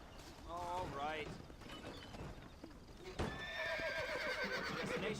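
Horse whinnies and hoofbeats from the video game Red Dead Redemption, with a rising neigh early on and a longer, louder whinny later over steady clip-clop and background speech.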